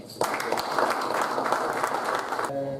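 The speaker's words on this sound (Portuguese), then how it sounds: "uma salva de palmas" An audience at a football debate event bursts into dense clapping that holds steady for a couple of seconds, then cuts off abruptly.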